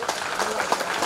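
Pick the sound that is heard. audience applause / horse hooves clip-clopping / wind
audience applause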